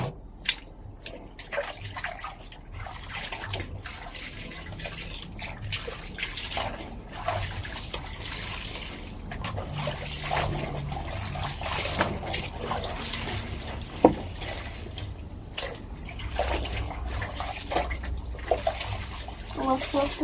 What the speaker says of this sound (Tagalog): Naagas po ng tubig.